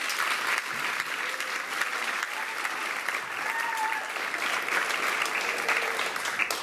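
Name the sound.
audience applause for the choir's piano player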